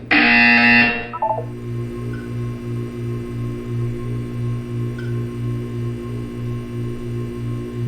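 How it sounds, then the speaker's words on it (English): A Portal 2 game buzzer sounds as a steady run of evenly spaced low electronic pulses, a loud tone bursting at the start before the repeating buzz settles in under a faint hum. "You will hear a buzzer."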